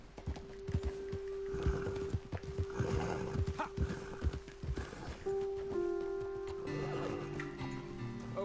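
Horses in Red Dead Redemption 2 clip-clop along with hoofbeats and snorting, a horse neighs loudly, and a steady tonal hum plus layered musical tones rise near the end.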